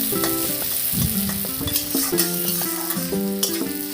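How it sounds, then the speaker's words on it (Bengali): Onions fry slowly in a pan as they are stirred, producing a loud, continuous close sizzle broken by repeated scraping and clinking of the utensil against the pan. "এটা আস্তে আস্তে ভাজতে হবে যেন পুড়ে না যায়।"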